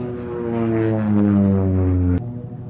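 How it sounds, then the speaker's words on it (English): A propeller aircraft makes a low strafing pass at an air show, its engine drone loud and sustained, swelling then cutting off abruptly. "Another typical strafing pass there by Tony."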